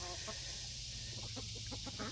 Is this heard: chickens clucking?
yes